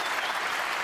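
Snooker crowd at a UK Championship match between Ronnie O'Sullivan and Matthew Selt applauding the match-winning shot, a steady dense wash of clapping filling the hall.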